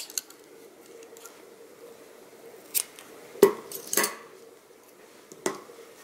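Scissors snipping yarn while knitting a bag, a few sharp, close metallic clicks and snips scattered across a quiet background, one louder cut in the middle.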